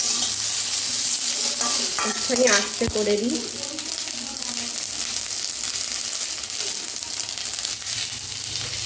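Chicken biryani fries in a kadai as it is reheated, with a constant close sizzle and scraping stir strokes; a person speaks briefly over the cooking.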